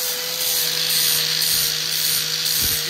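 A circular sander grinds a World War bayonet, a steady high-pitched whirring abrasion holding close and loud for the whole stretch, with a faint low scrape near the end.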